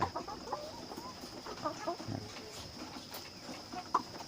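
Hy-Line Brown laying hens, a young flock on a farm, cluck and murmur in scattered soft calls against a quiet background, with a brief louder note near the end.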